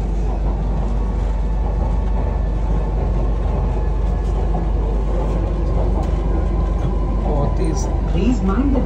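Kochi metro train running, a steady low rumble and hum holding at an even, fairly loud level throughout, with a public-address voice speaking over the continuous ride noise.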